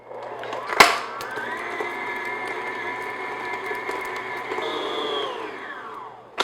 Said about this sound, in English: just beat this until the butter is nice and smooth